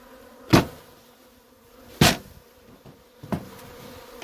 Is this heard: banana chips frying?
no